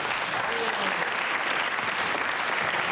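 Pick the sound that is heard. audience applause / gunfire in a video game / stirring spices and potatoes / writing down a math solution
audience applause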